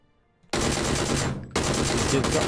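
Loud, continuous automatic gunfire in PUBG, two sustained rattling bursts separated by a brief dip, dense and close with no talk over it.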